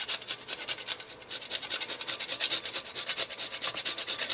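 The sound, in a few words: grating nutmeg and mace blend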